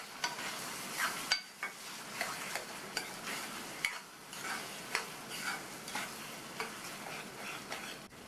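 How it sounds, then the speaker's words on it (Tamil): Mashed elephant yam sautéed in oil in a pan over medium flame, stirred with a spatula that scrapes the pan in regular, rhythmic strokes above a soft, continuous sizzle. "இந்த கிழங்கு எண்ணெயிலேயே நல்லா சுருளை வதங்கி இந்த பேனில் ஒட்டாத வர அளவுக்கு வதக்கிக்கணும்"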